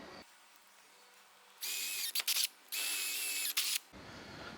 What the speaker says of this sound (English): drill those holes out to an 8mm